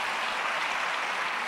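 Dense, steady applause from an audience at a church testimony gathering, loud and continuous throughout, with no clear talk over it.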